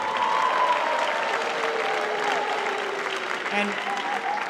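A round of applause for school office staff and athletic administrators at a school sports awards night, steady clapping from a large audience that fades slightly toward the end, with brief talk over it.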